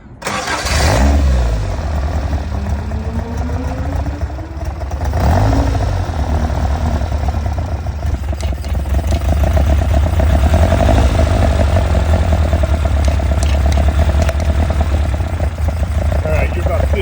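A Caterham Seven's engine cranks and catches, then settles into a steady, loud running idle nearby for the rest of the stretch, with no voices over it.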